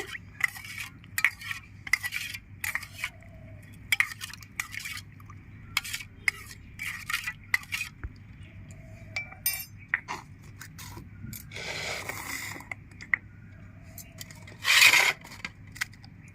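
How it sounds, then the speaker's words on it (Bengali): Food being mixed in a bowl with gondhoraj lemon juice, giving soft clinks, rubs and scrapes of utensil against the bowl in scattered bursts, with a louder clatter near the end and no talking. "গন্ধরাজ লেবুর রস দিয়ে দিচ্ছি, ভালো করে মিশিয়ে নেব।"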